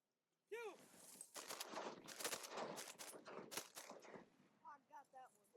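Shotgun blasts during a duck hunt in Oklahoma, several sharp shots in quick succession outdoors, with hunters shouting and talking excitedly over and between them; a duck call quacks at the start and end.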